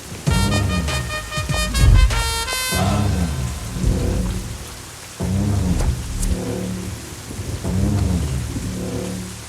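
Heavy rain pours steadily throughout, with deep rolling thunder rumbling in repeated swells and a burst of tonal music near the start.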